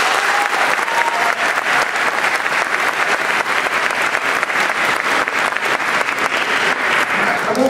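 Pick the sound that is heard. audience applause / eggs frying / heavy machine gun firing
audience applause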